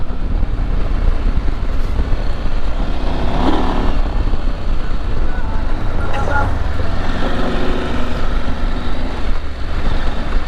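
A Husqvarna Norden 901 motorcycle rides off-road at an OHV park, its engine a loud, continuous rumble mixed with wind buffeting, with someone talking over it.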